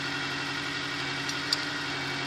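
A car engine idles through a cheap aftermarket exhaust, giving a steady, even low drone with a faint ticking layered on top, heard up close and alone with no talk.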